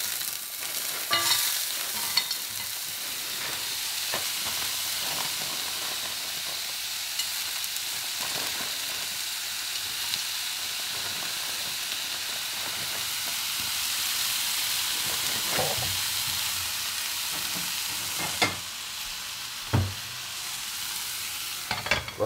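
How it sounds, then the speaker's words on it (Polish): Vegetables sizzle and fry in a pan on the stove, a steady quiet hiss with occasional stirring scrapes and clicks, no talk. "Warzywa po prostu wrzucę sobie klasycznie na patelnię."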